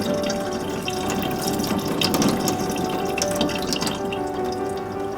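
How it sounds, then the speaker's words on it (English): Water poured over Kanuma soil in a flower pot for planting Nepenthes, a steady close splashing and trickling rush that continues evenly without pause and with no talk. "Water from the top until the water from the bottom becomes clear."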